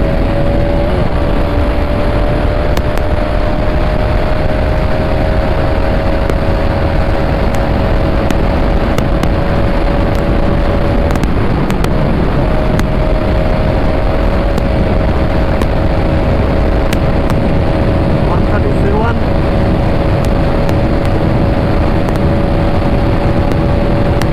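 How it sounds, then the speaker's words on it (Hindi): A Bajaj Pulsar RS motorcycle pulls hard at high speed in a street race, a loud, continuous engine drone buried under heavy rushing wind buffeting that runs unbroken throughout. "मेरी बाइक पुल कर रही है भाई"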